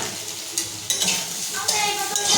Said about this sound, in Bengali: আর এখন ছোট সোয়াবিনটা ভাজা করে নেবো